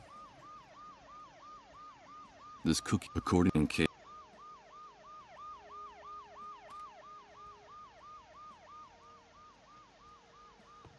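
An ambulance siren in Dead Synchronicity wails in a steady, rapid up-down cycle for the whole stretch, moderately loud and constant, while a voice speaks briefly over it and a short burst of clattering noise cuts in early.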